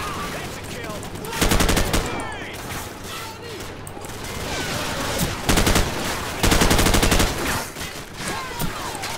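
Rapid automatic gunfire in the video game Call of Duty 4, loud bursts of several seconds each breaking through constant background battle noise, with a voice talking over the action.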